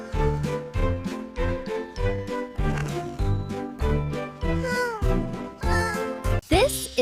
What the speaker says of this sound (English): This is a cat.